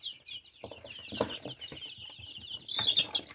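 Young chicks peep continuously in a close, high-pitched chorus, with soft rustling and a few clucking sounds beneath.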